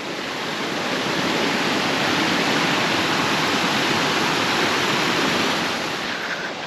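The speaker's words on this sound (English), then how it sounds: "And another quaint cascade." Small rocky waterfall cascade at Hareshaw Linn in Northumberland, a steady, full rush of falling water heard close and loud throughout, with no voices.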